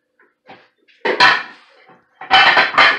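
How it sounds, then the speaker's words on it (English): A plate set into a dishwasher rack among other large dishes gives two bursts of ceramic clatter and knocks, close and loud, with brief quieter handling sounds before them. "I'm going to take this plate, put it with these other big dishes"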